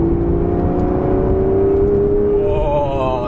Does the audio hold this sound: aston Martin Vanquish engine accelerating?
yes